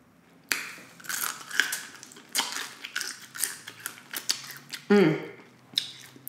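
Crisp, close crunching of fried chicken being bitten and chewed at a mukbang meal, a run of sharp irregular crackles over about six seconds with brief pauses between bites.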